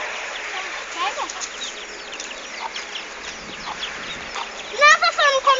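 Chicks peep faintly while being fed, with soft clucking throughout and a burst of louder chirps near the end, under a voice speaking.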